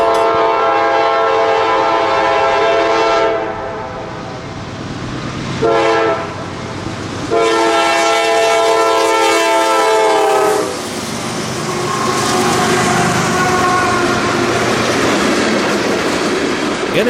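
A Norfolk Southern manifest freight train passes close by in Georgia, its horn blaring in long loud blasts broken by short gaps, with the rumble and clickety-clack of rail cars rolling underneath.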